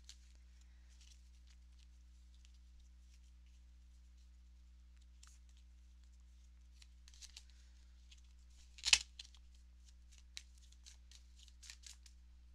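Tarot cards are handled for a reading, soft, scattered papery flicks and slides near and quiet over a low hum, building to one brief loud riffle of shuffled cards near the end, then more light card snaps.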